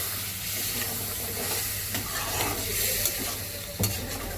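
Potatoes and taro sautéing with a little water in a pan, giving a steady close hiss and sizzle with occasional scraping stirs and a sharper clack near the end.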